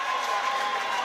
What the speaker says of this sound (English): Spotters cheering.